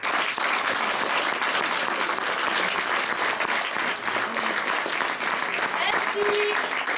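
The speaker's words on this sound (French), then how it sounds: "Je pense qu'on peut les applaudir encore." Theater audience applauding performers after a show, continuous close clapping from a full house with a few voices faintly mixed into the steady patter.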